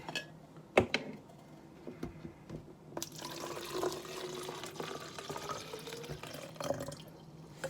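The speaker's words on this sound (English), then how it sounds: "I'm gonna go fill this up with water" Water runs from a tap into a Gatorade Gx bottle with a soft, rising gurgle, preceded by a few clunks and taps, fairly quiet.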